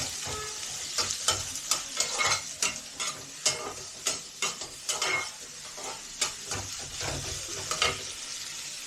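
Potatoes fry in oil for ghugni while being stirred hard, with rhythmic scraping and clattering strokes against the pan over a constant close sizzle.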